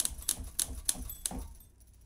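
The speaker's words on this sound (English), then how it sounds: "Now I'm just gonna have this typewriter sound." A typewriter sound patch played from a hardware synth in MainStage gives about five sharp mechanical key clacks in an uneven rhythm, fading into quiet at the end.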